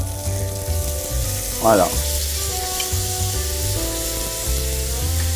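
Food sizzles loudly in a frying pan as it is basted with hot fat, a continuous crackling hiss with a brief stirring scrape, while a chef talks over it.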